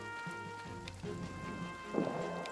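Rain and thunder from the trench warfare game All Quiet in the Trenches: a soft steady patter with low rumbles and a louder thunder swell near the end, fairly quiet overall.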